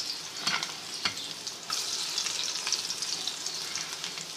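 Cumin seeds and red chili sizzle in hot oil for a dhaba-style chana and mash dal. A steady close frying hiss carries a few sharp pops and crackles near the start.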